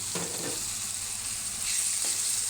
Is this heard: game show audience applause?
no